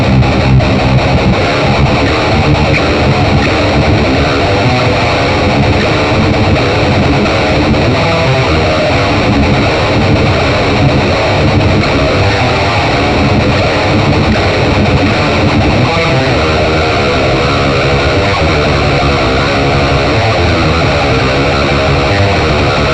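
An electric guitar runs through the amp simulation of a JOYO Preamp House, a loud, dense, distorted tone played continuously with tight chugging riffs and no pauses.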